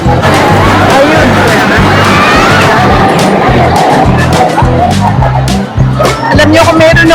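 Roller coaster at Sky Ranch Pampanga amusement park, a loud, continuous rumble and clatter of cars on the track with rhythmic low thumps, mixed with crowd noise.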